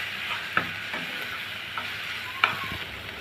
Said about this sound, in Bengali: এখন আমি এগুলো ভালো করে ভেজে নিব বাঁধাকপির সাথে